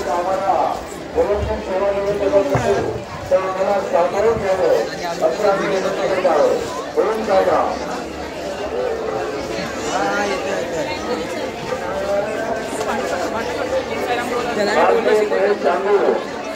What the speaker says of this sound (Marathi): तिकडे गेटच्या बाहेर तर खूपच गर्दी झाली आहे.